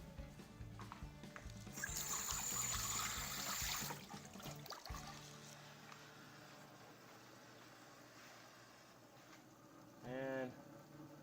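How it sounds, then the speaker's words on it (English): Tap water gushes over hands being washed at a sink mid-way through preparing smoked ribs, a steady rush for about two seconds before dropping to a quieter trickle, with faint background noise. "Wash my hands."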